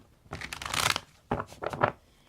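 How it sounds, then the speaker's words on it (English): Tarot cards being shuffled up close: two quick bursts of papery riffling and rustling separated by a short pause, with no voices. "I'm going to shuffle the cards to see what the one who is like God wants you to know"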